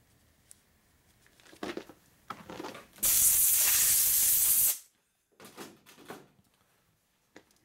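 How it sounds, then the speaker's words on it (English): Compressed air blasts grit off an oil pump part from a 2003 Indian Chief motorcycle's 100ci Power Plus engine: one loud, steady hiss lasting about two seconds, set between quiet handling clatter and small knocks. "Should blow off any grit."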